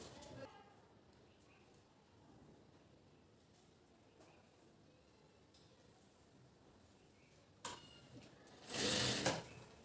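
Sewing machine stitching a joint on a blouse, faint steady whirring for most of the stretch, then louder bursts of stitching near the end, with speech in the clip.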